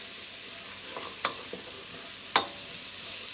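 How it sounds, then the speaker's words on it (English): Garlic sizzles softly in butter in a pan on the stove while a utensil stirs it, giving a few light scrapes and clicks and one sharper knock over a faint, steady frying hiss; no voices. "We're gonna mix our garlic in the butter."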